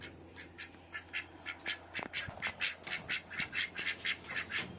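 Ducks quack in a steady run of rapid, raspy calls, one after another, moderately close with faint background noise.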